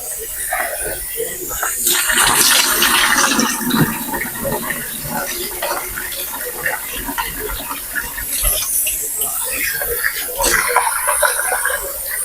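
Red lentils rinsed under running kitchen water: a steady splashing and rushing of water, loud and close, swelling around the second and eighth seconds and continuing for the whole stretch.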